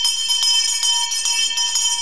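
A quiz show buzzer bell rings loud and bright in a rapid, steady trill, repeating evenly for about two seconds without voices.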